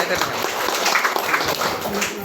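Brisk applause from a training-session audience greets a rural woman's homemade roasted-gram balls, a short burst of many hands clapping fast and close, with voices talking over it.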